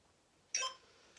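A single short electronic beep from the Seconds Pro interval timer app during a HIIT workout, brief and fairly faint in a quiet room.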